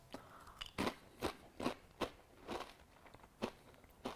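Light, salty bubble chips being bitten and chewed close up, a quiet run of sharp, separate crunches spaced irregularly about every half second, with no talking.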